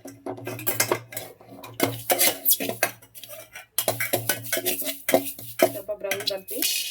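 Cumin seeds dry-roasting in a pan for a homemade mixed pickle, with a spoon scraping and clattering against the metal in busy, irregular bursts, close and fairly loud, broken by short pauses.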